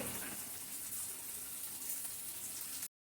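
Water pours steadily into a cooking pan holding flour dhoka pieces for a Bengali curry, a continuous close gushing stream that runs for about three seconds and then cuts off abruptly, with no talk.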